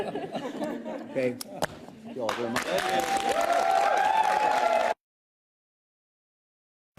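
An audience claps at a bill signing, a few scattered claps growing into sustained, fairly loud applause mixed with murmuring voices, then cutting off abruptly into silence.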